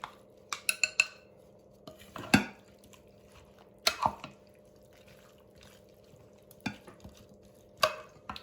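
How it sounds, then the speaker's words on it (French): A spoon scrapes and clinks through a mixture seasoned with a pinch of chili pepper, with scattered short knocks against the bowl between quiet pauses. "Après, on va mélanger le tout."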